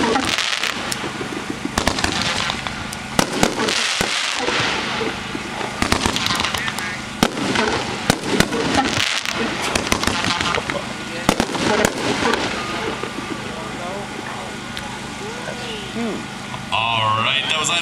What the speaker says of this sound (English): Alright, that was item number 11, trick shot.